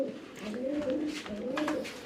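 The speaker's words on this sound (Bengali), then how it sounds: "চলুন কবিতরগুলো।" Siraji running-pair pigeons coo softly nearby, a couple of low rolling coos in a quiet setting.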